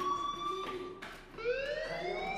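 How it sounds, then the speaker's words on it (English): A fire alarm wails inside the school setting of the video game Life is Strange, a tonal siren whose pitch rises and falls, cutting out briefly before resuming at moderate loudness with no talk. "Hey, do you hear that fire alarm?"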